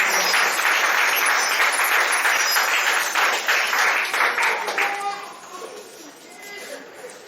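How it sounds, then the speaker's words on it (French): A church congregation applauds a priest at a Catholic anniversary celebration, a loud, dense sustained clapping that fades after about five seconds into lighter scattered claps and murmuring. "tu vas applaudir le prêtre"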